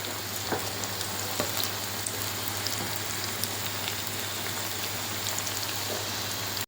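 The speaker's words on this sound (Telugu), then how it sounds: "కొంచెం వేయించుకోవాలండి, మరీ ఎక్కువ కాదు." Drumstick pieces frying in groundnut oil give off a steady, close sizzle with fine crackling pops, constant and even throughout with no talking.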